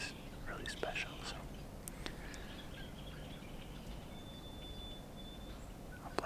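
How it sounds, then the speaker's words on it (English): Wild birds call in the early morning on a Kansas bowhunting ground, faint, scattered chirps and a distant gobble-like call over a soft, airy outdoor hush, with a breathy whisper-like murmur underneath. "hearing the birds and everything, the sounds of the morning is really special"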